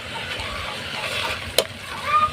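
Cassava shoots sauté in a pan with a steady soft sizzle and stirring scrapes, one sharp clack of the utensil near the middle, close and alone without talk.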